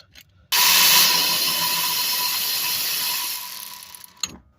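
A ratchet turns out the 14 mm top bolt holding the caliper bracket on a 2017-2020 Hyundai Elantra during a rear hub bearing job: close, steady mechanical whirring that starts suddenly, runs for about four seconds, then stops with a click.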